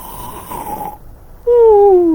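A voice imitates a bear snoring: a drawn-out tonal rasp, a short pause, then a louder, closer falling snore-like drone, with nothing else heard.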